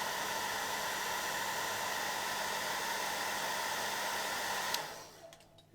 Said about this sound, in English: hairdryer of doom